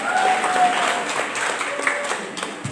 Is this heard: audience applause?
yes